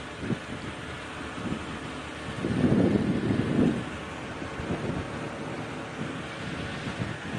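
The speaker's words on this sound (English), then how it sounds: "What a chilly wind." Chilly wind blows across the open bush on an evening safari drive, a steady broadband rush with a louder gust swelling midway before settling back to a constant roar.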